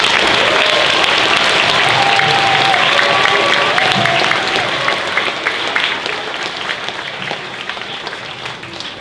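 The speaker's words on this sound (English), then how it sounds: "Give them a round of applause." Sustained applause from an audience at a space station assembly event, loud and dense at first, then thinning and fading toward the end.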